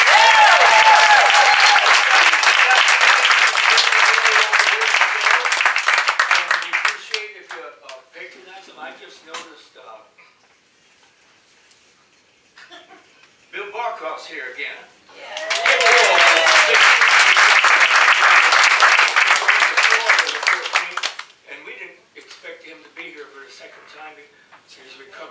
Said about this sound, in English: Give Ted Yoder another round of applause.